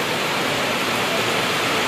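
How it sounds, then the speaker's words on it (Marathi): Heavy pre-monsoon rain with strong wind falls steadily, a dense, even hiss of downpour that carries without a break from start to finish, loud and close. "पाऊस होणं गरजेचं होतं आणि तो पाऊस मान्सूनपूर्व पाऊस आता"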